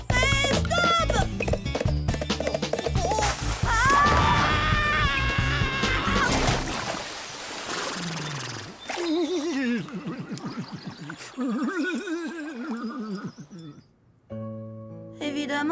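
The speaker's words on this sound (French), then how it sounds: "il est pas très nerveux ton cheval quand même" A nervous horse clip-clops and neighs loudly up close, with hoof beats and whinnies mixed among cat-like cries, music and bursts of voices in a comedic scene.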